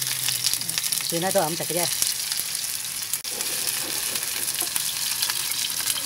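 Diced pork frying in a pan, a loud continuous sizzle and spatter with stirring, close up, while a person speaks briefly partway through.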